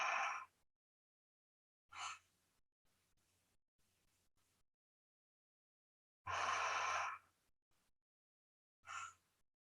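Closed-mouth healing breath, air sucked in and pushed out through the teeth in four or five hissing, snorkel-like pulses separated by silent pauses, close and clear.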